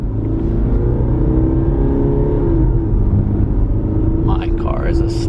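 A Jaguar revs on the Nürburgring during a private track day, its engine holding a loud, steady rumble with a brief higher tone near the end.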